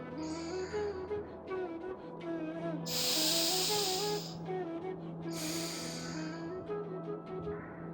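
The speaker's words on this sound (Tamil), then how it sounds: "வலதுல மூச்சை வெளியே விடுங்க" During alternate-nostril yoga breathing, an exhale through the right nostril produces a soft, airy hiss, with a second fainter breath later over faint steady background tones.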